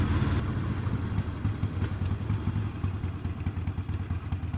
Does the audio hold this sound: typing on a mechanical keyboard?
no